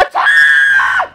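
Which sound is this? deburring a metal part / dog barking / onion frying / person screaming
person screaming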